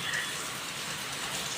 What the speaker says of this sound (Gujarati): છાંટા પડ્યા